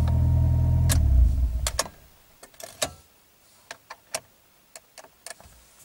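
A Mitsubishi Colt CZT engine rumbles and cuts off, then the lights-left-on warning chime ticks in sparse, irregular clicks against near silence.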